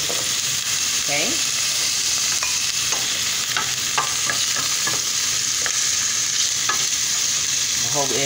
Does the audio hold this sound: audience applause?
no